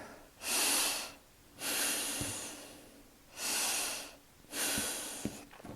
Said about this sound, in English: then you do your diaphragmatic breathing from here